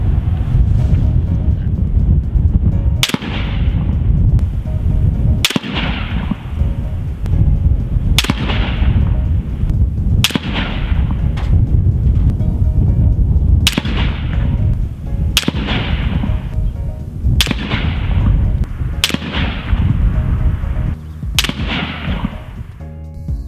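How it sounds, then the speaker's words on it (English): Gunshots from a Stag Arms AR-15 piston rifle in .223 with a 1-in-7 twist barrel and 6-18 power scope, fired outdoors at 100 yards: ten sharp evenly spaced cracks over heavy, constant wind noise. "we're going to shoot the 1-to-7 rate twist rifle first with all 3 of these bullets"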